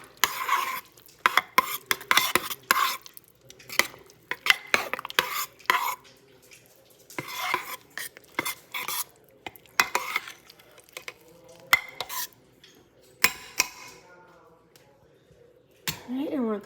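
Drained canned peas and carrots are stirred into chicken pot pie in a crockpot, with repeated wet scraping and spoon clacks against the pot in uneven bursts, and a voice briefly present.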